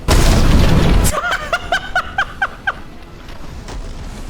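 A loud, booming shotgun blast in the mech tactics video game Phantom Brigade fills the first second, followed by a run of short, evenly spaced electronic chimes that fade out.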